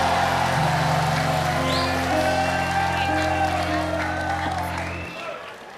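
At the D'Academy 2 nomination concert, an audience claps and cheers for a contestant's supporters. The crowd noise sits under loud stage music and a voice, then tapers off near the end.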